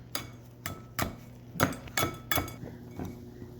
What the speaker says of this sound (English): This is going to be the topping for the apple crisp. Just keep chopping and chopping.